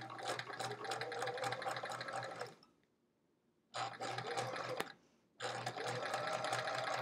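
A sewing machine stitches quilt block pieces in fast, even whirring runs. It stops twice in quiet pauses, then starts again at close range with no voices.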